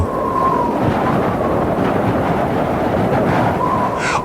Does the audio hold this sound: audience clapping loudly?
no